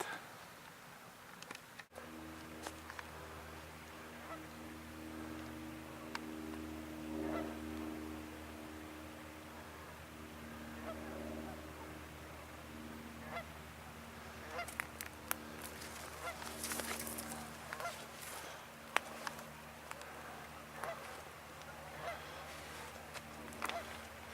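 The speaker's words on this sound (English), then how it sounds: "these geese are close enough" Geese honk repeatedly nearby over a steady low hum, with a burst of busier, overlapping calls toward the end.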